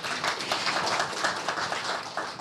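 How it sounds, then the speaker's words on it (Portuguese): An audience applauding at a talk on building a client portfolio, a steady dense patter of many hands clapping throughout. "Uma salva de palmas para vocês."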